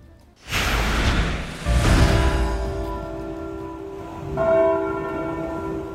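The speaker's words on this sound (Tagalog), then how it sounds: "Dahan-dahan na pinatunog ang mga kampana ng iba't ibang simbahang Katolika" Heavy bells of Catholic churches in Pangasinan toll slowly and loudly in mourning for the Pope, each strike ringing out with a long humming decay that lingers between hits.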